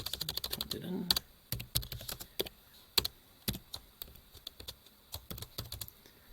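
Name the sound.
typing on a computer keyboard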